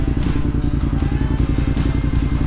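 An ATV engine running at a trail park, a loud, close, rough rattling drone with rapid clattery pulses that holds steady throughout, with no one speaking.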